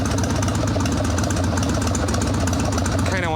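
A freshly rebuilt Evo Sportster chopper motorcycle engine idles steadily and loudly up close, its even, low throbbing loping along without a break.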